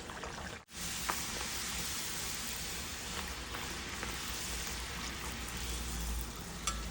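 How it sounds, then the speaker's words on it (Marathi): Puris frying in hot oil produce a constant, dense crackling sizzle, near and fairly quiet, running unbroken for several seconds after a brief dip at the start. "चला आपण तळूया"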